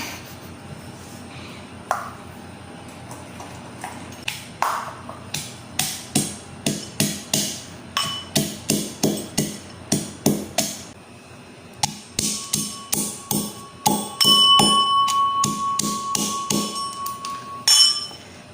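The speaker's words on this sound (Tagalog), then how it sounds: "Mayroon ditong bayo. Maingay nga lang." Cinnamon bark is pounded with a pestle in a mortar: a long, steady run of loud, evenly spaced thuds, close up, with occasional brighter metallic clinks.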